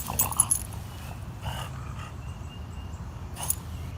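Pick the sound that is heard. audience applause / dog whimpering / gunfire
dog whimpering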